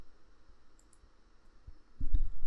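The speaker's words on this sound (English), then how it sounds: "I'm just clicking up and down" Computer mouse clicks while working in Blender, a few faint taps early on and then a louder, close burst of clicking near the end over a quiet background.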